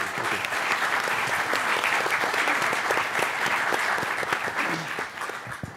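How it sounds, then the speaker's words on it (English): After a panel discussion on launch technologies, an audience claps for the panelists, close and dense applause with some sharp individual claps, lasting several seconds before easing off at the end. "I want to give our panel here a round of applause for their answers"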